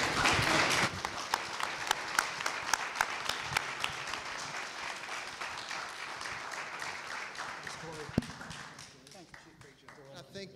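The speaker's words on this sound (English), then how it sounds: "let's give our 4 panelists a round of applause" Audience applause for four panelists at a public safety panel event in Alexandria, a dense round of clapping that stays loud through most of the stretch, then thins out and fades toward the end.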